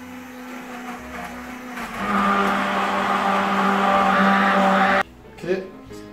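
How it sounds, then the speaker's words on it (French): A kitchen blender whirs loudly as it mixes a chocolate raspberry mirror glaze, starting with a low hum, then revving into a steady high whine for about three seconds before cutting off abruptly, followed by a brief bump. "Et maintenant, il faut mixer."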